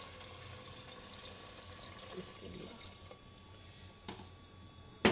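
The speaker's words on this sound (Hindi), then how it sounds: "अब मैं इसमें पानी मिला दूँगी वीवर ये तकरीबन दो कप पानी है वो हम डाल देंगे" About two cups of water poured into chana dal in a home kitchen while making a dhaba-style chicken chana dal, a faint, thin trickle and splash under quiet room noise, ending with a sharp knock.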